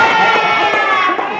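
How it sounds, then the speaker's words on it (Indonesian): A school class of pupils claps and cheers for their teacher in a classroom, steady dense hand-clapping mixed with children's voices throughout, fairly loud and close. "Tepuk tangan untuk Bapak."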